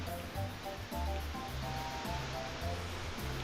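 Continuous roar of pouring rain, broad and unbroken, with a faint low rumble and murmur beneath it.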